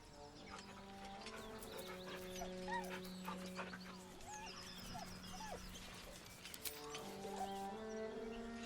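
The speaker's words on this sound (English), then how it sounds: "The dog whimpers nervously" A dog whimpers and whines nervously in Baldur's Gate 3, with soft high whines rising and falling over a steady layer of game music and ambience.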